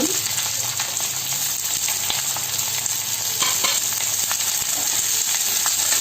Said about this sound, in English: Now I'm putting my onions to fry.